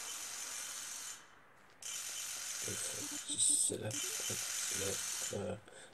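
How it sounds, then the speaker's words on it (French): The luxury coffee machine 2000X in the game Distraint whirs and clicks mechanically, a steady ratcheting drone with a brief pause, then rhythmic grinding pulses near the end, close and moderately loud. "ma nouvelle cafetière de luxe 2000X"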